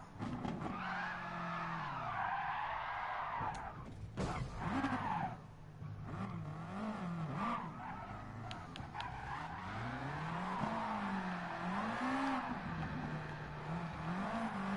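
Car tires skidding and squealing during drift practice, a continuous loud wavering screech that rises and falls over a roaring, revving engine, close by throughout.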